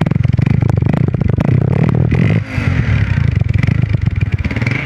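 A used Honda 125 motorcycle engine is kick-started and idles loudly up close, a steady rapid putter with a brief dip midway, then carries on running with some mechanical clatter.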